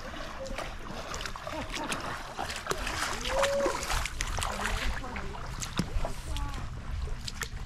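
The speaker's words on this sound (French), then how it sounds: "Je vais traverser la rivière pour aller à la mer." Water splashes and sloshes as someone wades across a cold river toward the sea on the Abel Tasman Coast Track in New Zealand, irregular close splashes over a trickling flow, with a voice speaking in between.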